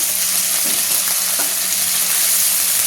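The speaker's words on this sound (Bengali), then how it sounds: "পেঁয়াজ মশলাটাকে ভেজে নেবো" Onion and spice paste made from ginger, garlic, cumin and chilli frying in a pan in a home kitchen, a steady loud sizzle with faint stirring scrapes throughout, no voices.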